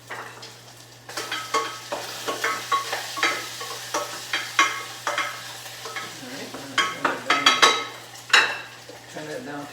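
Floured pork chops fry in a pan and are pressed down, giving a steady sizzle broken by repeated scraping and clinking bursts of utensil against the pan.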